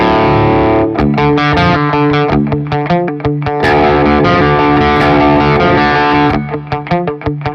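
Heavily distorted electric guitar chugs out rapid palm-muted notes in a tight rhythm, loud and up close, ringing out open between muted bursts.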